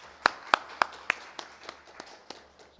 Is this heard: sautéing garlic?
no